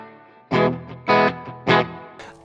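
Clean electric guitar played through an ENO AD-6 analog delay pedal: three loud, ringing strums about half a second apart, each followed by softer quick notes, heard alone and close.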